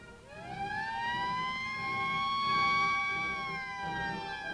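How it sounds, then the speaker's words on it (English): A simulated alert siren at the Panama Canal rises in pitch and then holds a steady wail, sounding fairly distant over a low background rumble, with no speech. "When a simulated alert sounds, everybody knows what they're supposed to do"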